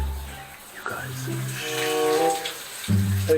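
Shower water runs in a bathroom as a steady, hissing wash of sound, with a voice talking over it.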